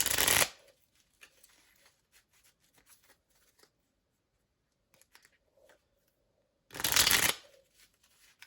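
A Starseed mini oracle card deck is shuffled up close in two short, crisp riffling bursts, the first at the start and the second about seven seconds later, with faint handling sounds in the quiet between them.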